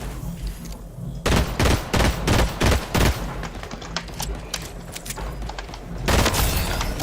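Shotgun blasts in Fortnite, loud booming shots fired in a rapid series of about five, then a steady din of game battle noise and another burst of fire near the end.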